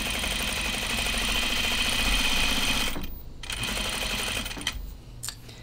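A sewing machine top-stitches the opening of a Wiksten Unfolding Jacket, running loud and continuous for about three seconds, then in shorter, uneven bursts with brief stops.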